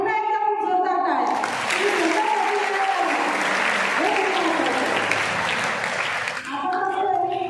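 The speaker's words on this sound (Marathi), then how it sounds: "यासाठी पुन्हा एकदा खूप जोरदार टाळ्या।" Loud, dense applause from a large, mostly female audience at a Savitribai Phule Jayanti gathering, swelling for about five seconds between stretches of someone speaking into a microphone.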